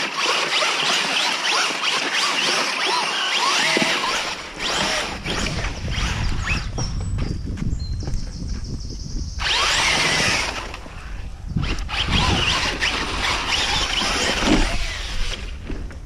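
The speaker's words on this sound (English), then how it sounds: "He's got all 4 wheels spinning again" A Traxxas 4x4 RC truck's electric motor whirs and whines as all four wheels spin, coming in loud bursts with a brief lull partway through. The sound is close and gritty and is heard without speech.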